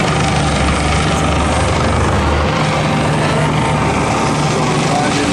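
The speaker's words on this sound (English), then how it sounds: "So there's the helicopter showing." Helicopter flying over a fleet of boats on a rough sea, its rotor and engine a loud, steady drone with a low thudding hum that shifts partway through, continuous and close.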